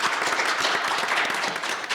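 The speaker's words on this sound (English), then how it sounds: "I just want to give everyone here a round of applause." An audience claps at the close of a scientific panel session, the applause dense and steady throughout.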